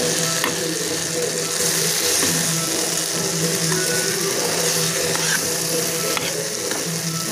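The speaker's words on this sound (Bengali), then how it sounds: "এইভাবে আমরা এটাকে একটু নরম হয়ে আসা পর্যন্ত নাড়তে থাকবো।" Mango chutney stirred in a frying pan, with continuous sizzling and repeated scraping strokes of a utensil against the pan, close and steady throughout.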